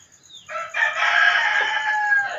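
A rooster crows loudly and close by, one long drawn-out cock-a-doodle-doo that rises and holds its strained tone to the end.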